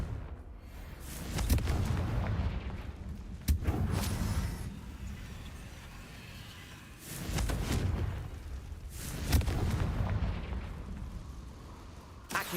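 Booming Confringo blasting-spell explosions from Hogwarts Legacy erupt in two loud clusters of bursts and pops, each followed by rumbling decay, with sharper single cracks in between.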